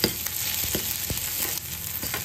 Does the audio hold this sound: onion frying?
yes